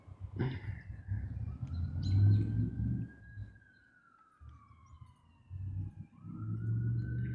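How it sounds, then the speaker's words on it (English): A police car siren wails at middle distance, a long rising and falling tone that sweeps through the clip over low rumbling traffic noise, with a second siren sweep starting near the end. "I hear sirens."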